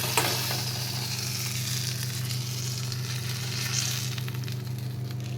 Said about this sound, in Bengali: আমার মাছটা দেখো একদম লাল লাল করে ভাজা হয়ে গেছে একদম সুন্দর করে